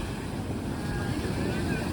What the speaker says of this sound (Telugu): అలలు ఇక్కడ వరకు వస్తున్నాయి